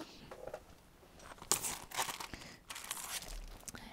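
Plastic bags holding craft items crinkle and rustle on a bed in irregular bursts, some sharper crackles standing out, fairly close and moderately quiet.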